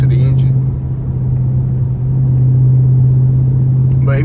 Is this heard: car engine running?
yes